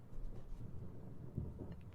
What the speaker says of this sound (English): Thunder!